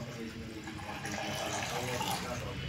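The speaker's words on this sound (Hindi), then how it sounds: "गोपाल भाई, थोड़ा पानी मिला दीजिए" Water runs steadily from a tap or is poured while tea is being made on a mountain bike trip, a continuous, faint splashing and trickling throughout with no clear break.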